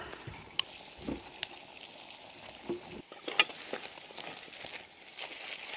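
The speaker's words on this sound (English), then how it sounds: "Boiling nicely now." Low bubbling and hissing of water boiling on a small camp stove, with scattered clicks and taps over a steady, fairly quiet rumble.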